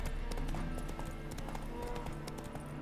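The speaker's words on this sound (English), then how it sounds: "Spooking my horse." Hoofbeats from a horse in The Witcher 3 clop steadily over a dense game soundscape of music and ambience, moderately close.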